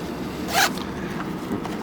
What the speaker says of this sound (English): We have a self-healing YKK zipper